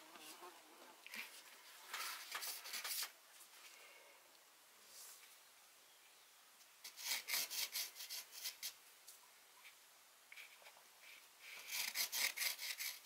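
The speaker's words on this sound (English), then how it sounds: "You just get your putty rubber" A putty rubber eraser rubbing out pencil marks on paper during a botanical drawing session, giving soft, close scrubbing bursts in several short runs separated by quiet pauses.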